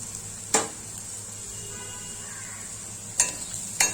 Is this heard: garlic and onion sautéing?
yes